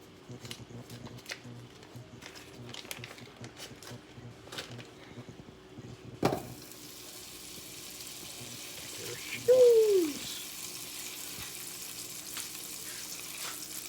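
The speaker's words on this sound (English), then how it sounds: "I'm going to add to my pan right now 8 tablespoons or half a cup of butter" Eight tablespoons of butter added to a pan for mac and cheese, with a faint sizzle that swells after a sharp clunk and continues as a low, steady hiss, briefly masked by a louder scrape.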